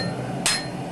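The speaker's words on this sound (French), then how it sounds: "tranchants sont ensuite forgés au marteau" A hammer strikes the edge of a Damascus steel blade during forging, giving a single sharp metallic blow over a steady background hum.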